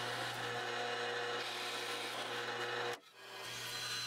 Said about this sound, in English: Then using a Forstner bit, I drill out each one of those locations.